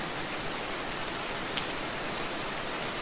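Steady rain falls throughout at moderate level, an even wash of drops on surfaces with no talk over it, setting a calm spa-day mood.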